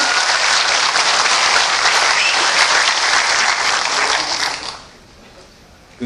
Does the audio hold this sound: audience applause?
yes